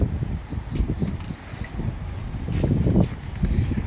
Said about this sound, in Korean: 바람 많이 불고 예. 비도 오고 그러네요